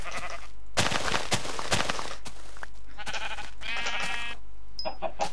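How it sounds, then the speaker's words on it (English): Sheep in Minecraft bleat several times in quick succession, loud, buzzy game calls against a steady background hum, with one brief higher tone near the end. "How did I manage to jump through a sheep?"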